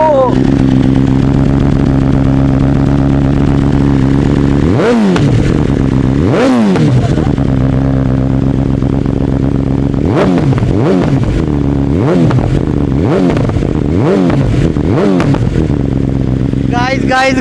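A 2021 BMW S1000RR sportbike's exhaust at a loud idle, blipped through several sharp revs that rise and fall in quick succession, close and powerful.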